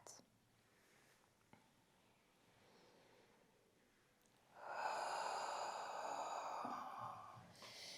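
A person lying face down for a back massage breathes in deeply, faint at first, then lets out one long, loud exhale that fades after a few seconds. The room is otherwise quiet.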